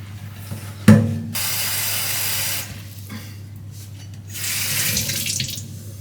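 Water from a tap running into a sink in a serviced apartment kitchen, starting with a sharp click and gushing steadily for a couple of seconds, then stopping before flowing again briefly; loud and close.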